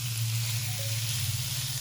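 Chicken breast mince fries with onion in a pan, giving a steady close sizzle with a low hum underneath and no voices.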